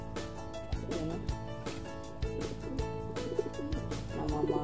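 Breeding pair of pigeons giving repeated soft, throaty cooing phrases at close range, rhythmic and low, with occasional light knocks and rustles.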